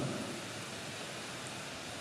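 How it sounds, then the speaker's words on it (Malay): Steady rain pours down during a midday downpour, a dense, continuous hiss of drops with a low rumble beneath, loud and even throughout with no voices. "di siang ini walaupun cuaca hujan tidak berhenti dari pagi"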